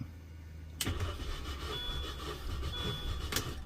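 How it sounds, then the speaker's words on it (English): A 2005 MINI Cooper engine cranks over on the starter during a compression test, a steady mechanical churning lasting about three seconds, loud and close, with no talking. "I would just go through like 3 seconds, 4 seconds of cranking."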